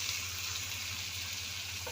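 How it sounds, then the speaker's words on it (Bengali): Constant hissing sizzle of chopped onions frying in oil, steady and close, with a low hum underneath and no talking. "পেঁয়াজগুলো ততক্ষণ ভাজা হোক"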